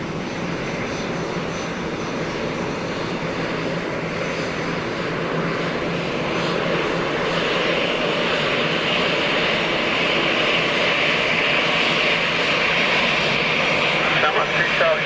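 An Antonov An-12 turboprop cargo plane at Dublin Airport gives a steady, loud engine roar that swells slightly over time while air-traffic radio chatter plays beneath it.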